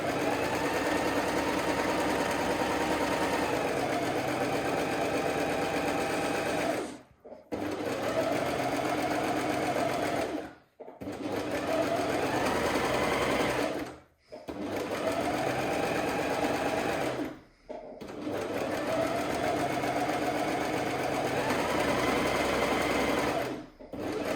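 An overlocker sewing fabric runs in long, steady mechanical bursts with short pauses between them, loud and close, the motor's pitch rising and falling slightly.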